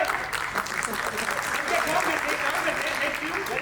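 A theatre crowd at ACP Theatre in Karachi claps continuously, a dense, even wash of applause filling the hall with a voice faintly under it.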